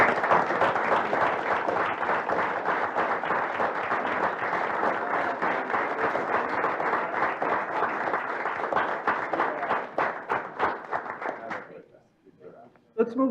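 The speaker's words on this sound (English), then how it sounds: "let's give our presenters another round of applause" Sustained audience applause for presenters at a university system Board of Regents meeting, a dense steady clapping from a room of people for about eleven seconds before thinning out into a few scattered claps and fading.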